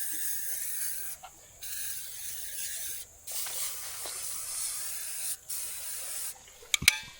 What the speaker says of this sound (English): And this is DEET. You can spray this on your clothing to keep the chiggers off of you.